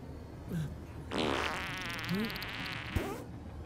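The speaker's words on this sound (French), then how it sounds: "Tu viens de péter." A short, wet buzzing fart rises close by, with a few brief squeaky noises before it and a sharp click near the end.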